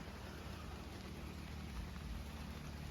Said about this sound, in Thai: โอ้ฝนลงเม็ดเม็ดใหญ่อยู่พี่น้อง